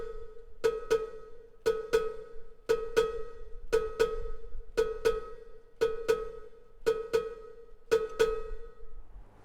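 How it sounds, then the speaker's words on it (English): A bright cowbell played with a drummer's foot clanks in a steady repeating pattern of paired hits, close and fairly loud, with no talking throughout. "it's going to play that on a cowbell"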